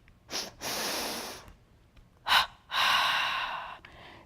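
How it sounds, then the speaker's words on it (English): Slow meditation breathing: a short sniff, then a long nasal inhalation, a brief pause, then a short puff and a long, airy exhalation through the mouth, close and alone. "short, followed by long inhalation through the nose, and then short, followed by long exhalation through the mouth"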